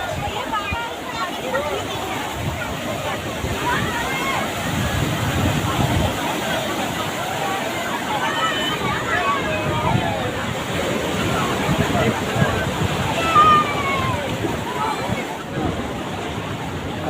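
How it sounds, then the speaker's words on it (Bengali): Sea waves surge and break continuously on a rocky beach at Digha, a steady broadband wash with wind buffeting the microphone while people talk over it. "জাস্ট ঢেউটা দেখো"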